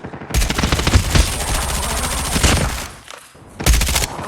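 Rapid automatic gunfire in a first-person shooter video game during a hardpoint match, loud sustained bursts of fusillade with a brief lull before another burst resumes.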